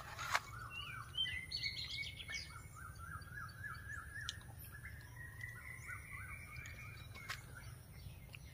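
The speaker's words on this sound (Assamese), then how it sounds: "বোলে চৰাই ঘূৰিয়ে ফুৰিছে," Small birds chirp and twitter in repeated short bursts around a rural village, mid-distance and moderately clear over a steady low background hum, with no talking.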